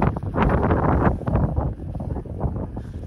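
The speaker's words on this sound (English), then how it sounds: "It's still windy in this yard." Steady wind in a beehive yard buffets the microphone, a low rumbling roar with gusts that rise and fall throughout, no voices.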